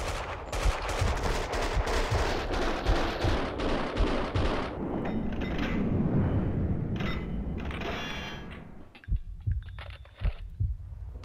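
Rapid gunfire from the Max Payne 2 video game crackles in dense bursts for several seconds, then thins to scattered single shots, loud and close throughout.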